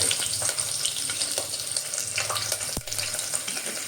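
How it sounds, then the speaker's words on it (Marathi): Dried red chillies sizzle in hot oil for a Maharashtrian phodni tempering, a steady dense crackling hiss that runs close and loud throughout, with one sharp pop near the end and no talking. "त्या फोडणीत सर्वप्रथम मी या मिरच्या घालतो"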